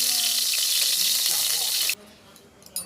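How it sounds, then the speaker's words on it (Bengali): Shredded cabbage sizzles loudly in a hot pan for about two seconds, then the frying noise cuts off abruptly, leaving faint background clatter and a short knock at the end. "এখন আমার কপিটা ভাজা হয়ে গিয়েছে"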